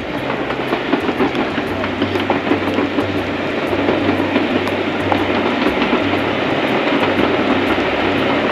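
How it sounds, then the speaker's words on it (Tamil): Steam-engine train passing near Fort William, Scotland: a loud, steady rolling rumble with rhythmic clickety-clack of wheels over rail joints throughout, close by and with no voices. "பட் வாவ் அந்த ஸ்டீம் இன்ஜின் சூப்பர்ப்"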